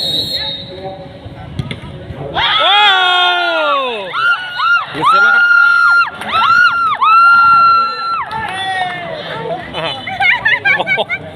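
Crowd of supporters at a local football match cheering and shouting, with loud rising whistles or horns and a dense babble of voices close by throughout.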